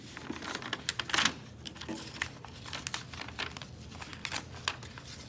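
Paper crinkles and tears while a bent wire armature, taped down to it, is pulled free; dense close rustling and crackling runs throughout, with sharper bursts at a few points and no talk.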